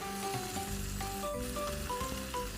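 Chicken steak coated in barbecue sauce grilling in a Teflon pan, giving a steady, close sizzle and fry with faint stirring, while tonal music plays over it throughout.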